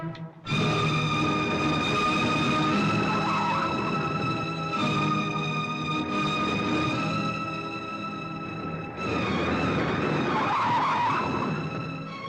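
A car in a Hindi action film drives and then skids to a halt, a long, loud tire squeal over the engine, mixed with layered tonal sounds and a second screech toward the end.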